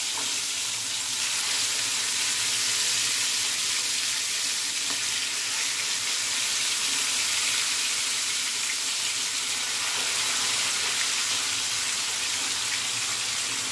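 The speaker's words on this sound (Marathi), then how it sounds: "आता आपण हे जे मॅरिनेटेड फिश होतं ते ह्याच्यात आपण सोडणार आहे।" Marinated surmai fish coated in green masala shallow-fries in hot oil over a low flame, giving off a continuous, even hissing sizzle that stays steady and close throughout with no talking.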